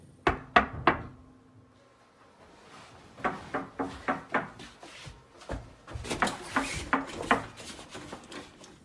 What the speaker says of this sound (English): Mrs. White hears knocking outside of the house